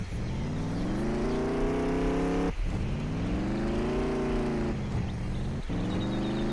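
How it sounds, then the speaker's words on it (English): A car engine in the Roblox video game revs loudly and continuously, pitch climbing and falling in long sustained sweeps with two brief drops between, holding close and steady throughout. "It's revving up! Rev it up!"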